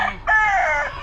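A red game-fowl stag crows once, close and loud, in a drawn-out call that follows a brief cluck, with no talking over it.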